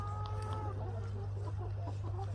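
Little brooder chicks clucking and cheeping close by on a farm, a steady run of soft chirps and clucks over a constant low hum.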